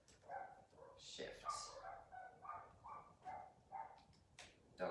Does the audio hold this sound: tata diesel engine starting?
no